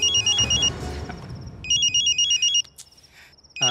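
A telephone rings in electronic bursts, loud and close, with a short gap in the middle where a low rumble and other indoor sounds come through before the ringing resumes; no one speaks.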